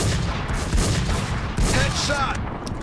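Dense, rapid gunfire from a shooting video game rattles almost continuously, loud and close, with bursts overlapping throughout.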